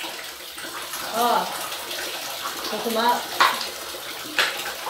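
Shower water runs steadily as a soft hiss, with a voice breaking in briefly a few times, including short exclamations.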